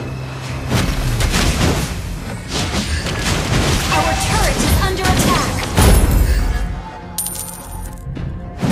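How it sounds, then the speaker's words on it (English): In Mobile Legends, a turret collapses amid loud, dense booms, crashes and clinking debris, with game effects and a voice announcement layered over the destruction. "Turret has been destroyed."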